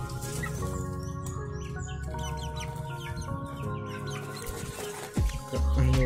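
A lively flock of six-week-old chickens cluck continuously, overlapping calls and chirps close by, with a brief low thump near the end.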